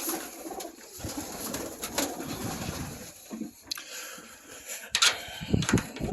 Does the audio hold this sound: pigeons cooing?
yes